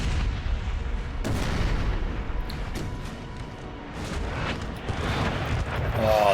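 Cannon fire from a battery of 6-pounder guns in Napoleon Total War, with repeated heavy booms and rolling gunfire over a dense, continuous battle roar.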